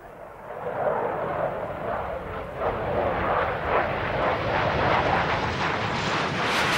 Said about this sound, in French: Avec son seul moteur de propulsion horizontale, l'avion piloté par Smith s'élève dans le ciel.